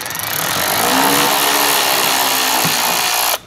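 Power tool loosening bolts on a car's underbody wing, one sustained loud buzzing whirr lasting about three seconds and stopping abruptly, close to the microphone, with no talking.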